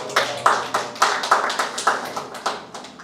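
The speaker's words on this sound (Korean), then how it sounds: "박수." A church congregation claps during a Sunday service, quick rhythmic claps of about two per second, close and steady throughout.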